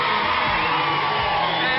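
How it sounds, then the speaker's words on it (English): A TV studio audience cheers for Gary Numan with loud, continuous whoops, yells and applause-like crowd noise filling the whole moment. "Gary Newman, give him a cheer."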